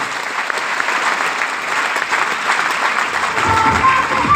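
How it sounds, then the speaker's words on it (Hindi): An audience at a business success-story event gives loud applause in honour of two leaders, a dense, continuous wash of clapping that swells slightly toward the end. "मैं चाहूँगा उन दोनों के सम्मान में भी एक जोरदार तालियां होना चाहिए"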